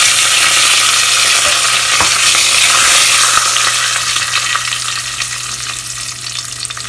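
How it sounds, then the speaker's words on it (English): Curry leaves hit hot oil on a low flame and set off a loud, dense sizzle and crackle close by. It gradually fades and softens over several seconds, with no talking. "curry leaves"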